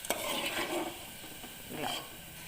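Food deep frying in a pan gives a steady hiss and sizzle, broken by a few clinks and scrapes of a stirring utensil against the pan.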